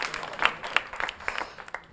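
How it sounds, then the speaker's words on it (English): Audience applause at a spelling bee as contestants walk up onto the stage, a thin scattering of claps with a few sharper hand claps standing out, fairly quiet and steady throughout. "Let's give them a round of applause as they come up and join us."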